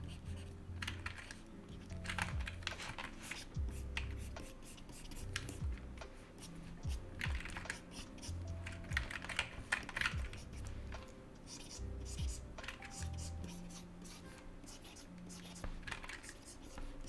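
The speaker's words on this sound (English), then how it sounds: "it also doesn't help the fact that my keyboard is loud as fuck." A loud computer keyboard clatters with fast irregular bursts of clicky keystrokes, close to the microphone, while a person speaks quietly in the background.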